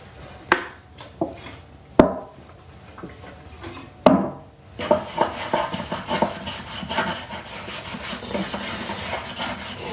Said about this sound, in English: I'm going to wipe it down with some denatured alcohol just to remove any sawdust